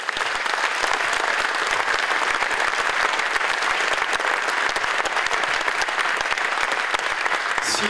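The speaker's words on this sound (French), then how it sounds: "Saluons ensemble les forces de l'ordre, leur mobilisation sans relâche mérite notre reconnaissance, notre admiration et vos applaudissements." A dense, steady round of applause from an audience at a mayor's New Year's address in Vence, honouring the police forces, sustained evenly and fairly loud throughout.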